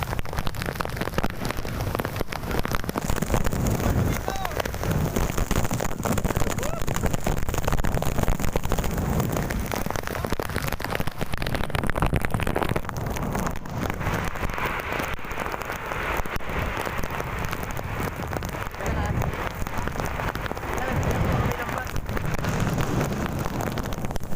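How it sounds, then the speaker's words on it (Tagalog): Steady heavy rain pours down for the whole stretch, a dense hiss of drops drumming on surfaces, with some wind buffeting and no talking. "Ulan"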